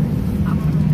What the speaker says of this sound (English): We're on a plane right now.